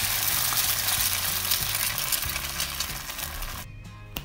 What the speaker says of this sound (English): Then I'm going to start frying my egg, so I just sprayed it with some canola oil